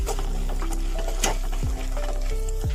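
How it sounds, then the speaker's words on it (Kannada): Peanuts, chana dal and urad dal frying in hot oil, a steady close sizzle with scraping stirs and a few sharp clicks and pops throughout. "1 ಚಮಚದಷ್ಟು ಶೇಂಗಾ ಬೀಜ, ಕಡಲೆಬೇಳೆ, ಉದ್ದಿನಬೇಳೆ ಹಾಕಿ ಚೆನ್ನಾಗಿ ಫ್ರೈ ಮಾಡ್ಕೊಳ್ಳಿ"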